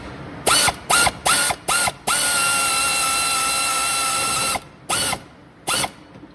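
A ratchet with a 10 mm socket turns a bolt on a John Deere D105 lawn tractor, giving several short clicking bursts, one long continuous run of ratcheting, then more short bursts, all close and loud.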